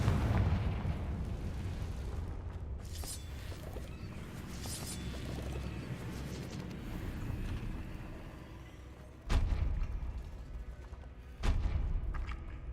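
Confringo spell blasts in Hogwarts Legacy, a deep rumbling explosion that rolls on at length, followed by two sharp, loud booms near the end, with no talking.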